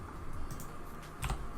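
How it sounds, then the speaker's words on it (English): Computer keyboard typing, a few soft, quick key clicks at close range with a slightly louder cluster near the end. "I'm going to type win"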